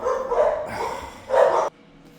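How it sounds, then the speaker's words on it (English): Dogs bark in several loud, nearby bursts, with a final sharp volley that cuts off abruptly, leaving quiet behind. "Man, the dogs went crazy."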